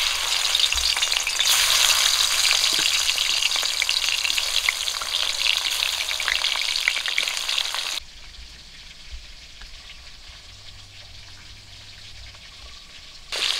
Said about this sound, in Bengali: প্রথমে আমি মাছের মাথা আর লেজা ভেজে নেব।